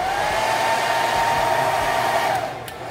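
A hair dryer blows a steady, loud whooshing hum as it heats a Jamberry nail wrap, holding an even tone for nearly three seconds before the airflow drops slightly near the end.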